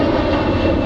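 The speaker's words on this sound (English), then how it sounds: "Loud plane, are you ready?" A loud airplane arriving at Zurich airport roars overhead, a dense, continuous engine rumble filling the whole short moment at close range.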